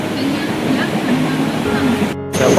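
A sudden rain shower at a Mumbai suburban railway station, a dense, steady roar of falling water close around, continuous for the whole stretch with faint background activity.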